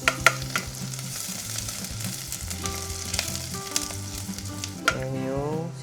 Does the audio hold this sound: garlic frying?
yes